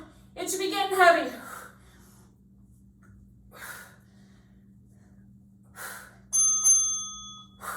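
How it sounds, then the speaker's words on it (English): A workout interval timer bell sounds once near the end, a bright sustained ring over faint background hum, after a few breathy, effortful vocal sounds earlier. "you're gonna hear 2 bells"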